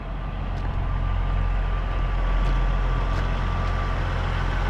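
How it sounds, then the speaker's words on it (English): Tow truck arriving to haul a Kenworth W900, a steady heavy diesel rumble with a faint whine, rolling in continuously at moderate distance with no talk. "here comes one of our trucks"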